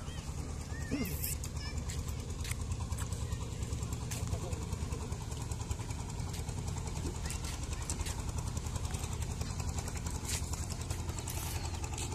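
A small fishing trawler on the broad Padma river chugs with a steady low engine rumble and rapid regular knocking throughout, as a voice talks over it.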